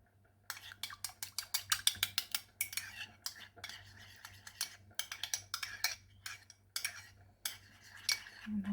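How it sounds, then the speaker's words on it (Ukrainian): Utensils stirring a fresh salad in a bowl, giving a quick run of clinking, scraping strokes in bursts of varying rhythm, close and fairly loud with a faint low hum underneath. "І ще раз добре все перемішуємо."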